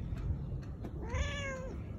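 A pet cat lets out one clear, drawn-out meow, close and moderately loud, rising and then falling over about a second after some faint background noise.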